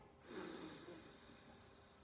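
A woman inhales slowly through one nostril during a guided breathing exercise: a single soft, airy sniff that swells early and tapers into a steady breathy hiss, close and quiet, with no talking.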